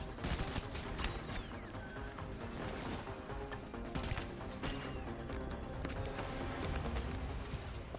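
Repeated gunfire in the Death Stranding video game, a dense barrage of sharp shots and impacts over a constant game soundscape, loud and continuous throughout.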